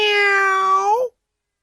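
A single drawn-out cat meow, close and clear, holding a steady tone before curling upward at the end and cutting off into silence.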